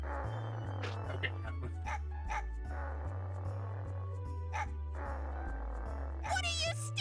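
Game dog from Mega Man Legends giving scattered short barks and yips over steady looping background music, ending in a quick flurry of yelps.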